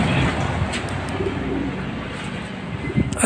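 Racing pigeons loaded in crates inside a truck for a 227 km one-lap derby race coo softly, low repeated calls mixed with rustling and background bustle.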